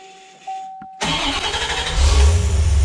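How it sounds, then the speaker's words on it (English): A faint tone and a click, then a C4 Corvette engine with a shifting and stalling fault cranks and catches, roaring to life and settling into a loud, close rumble. "I'm gonna start the car up here"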